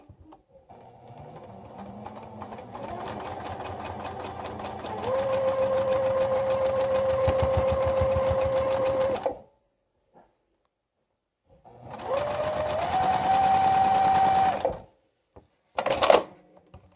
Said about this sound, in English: we're going to stitch that seam 1/4 of an inch